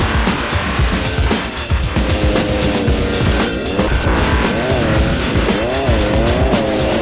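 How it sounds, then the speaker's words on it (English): Street motorcycle racing in the video game Speed Kings, with engines roaring continuously, tires squealing and pitch sweeping up and down as bikes weave through city traffic, loud and dense throughout. "Speed Kings takes you into the thick of the action with some extreme street motorcycle racing."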